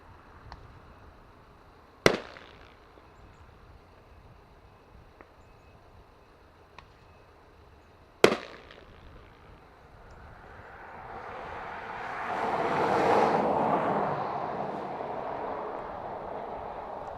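A KLM Embraer E190 passenger jet at Dublin Airport, its engine roar swelling from a distance and building to a broad peak before fading, preceded by two sharp nearby cracks.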